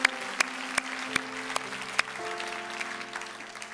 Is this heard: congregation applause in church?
yes